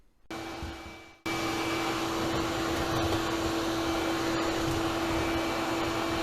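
Vacuum hose sucking lint out of a dryer vent, a steady loud motor whine with a tonal hum that starts up after a brief spin-up and then runs continuously, close by, with no talking.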